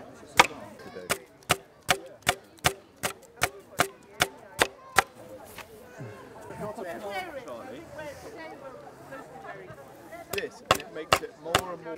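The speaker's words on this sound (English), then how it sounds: "So this is a scutching sword, and this really just carries on what the brake does" Sharp wooden thwacks of a scutching sword beating flax stalks against a scutching board, a rapid regular series of about a dozen strikes, then a pause filled with nearby talk, then a few more blows.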